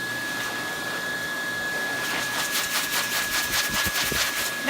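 A dog-grooming blow dryer with its nozzle removed roars steadily close up, working over a Samoyed's face and cheeks, with a constant high whine and faint fluttering rhythm in the airflow.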